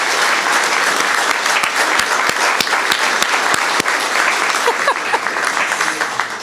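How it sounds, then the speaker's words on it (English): Loud, dense applause from the audience at a Law Day ceremony in a district courthouse, steady and sustained with some sharp individual claps standing out near the listener. "If we could give them another round of applause."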